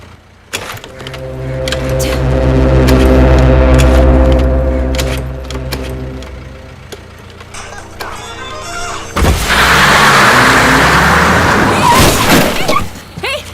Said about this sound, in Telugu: బండి మీద కూర్చుందన్న. స్టార్ట్ చేయడానికి ట్రై చేస్తుందన్న.